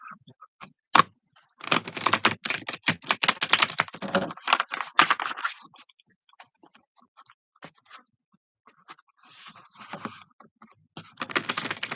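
A tarot deck is riffle-shuffled in close, rapid bursts of crisp card clicks and flutters, one long run of several seconds, then quieter scattered taps and a final burst, with no talking.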